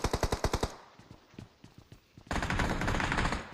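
Gunfire in the video game PUBG: a quick volley of sharp, evenly spaced shots, then scattered pops, then a dense sustained burst of automatic fire, all fairly loud.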